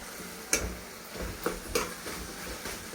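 Ginger garlic paste being stirred in a frying pan for beerakaya pappu, a soft sizzle under a few distinct scraping clicks of a spoon against the pan.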